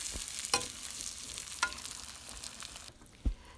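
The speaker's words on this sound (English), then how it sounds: "You mix this all together until it's all incorporated." Ground beef with onion powder and taco seasoning being stirred in a hot pan, a steady sizzle with a few scraping knocks of the utensil, close and without talk.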